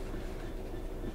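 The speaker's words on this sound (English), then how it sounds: "And that sounds nice as well, the clickety clack. The train is on the track." A train in Train Sim World 3 runs along the track on the Southeastern High Speed line, giving a steady, loud rumble with track rhythm and no voices.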